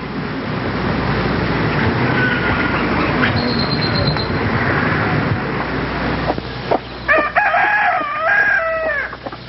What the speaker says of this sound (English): My grandmother raises chickens,